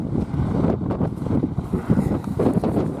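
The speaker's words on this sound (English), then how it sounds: "the wind, like I say, it is howling." Strong, howling wind buffets the microphone outdoors on a farm with a tractor nearby, a steady low rumble with gusting surges that fills the whole clip without any talk.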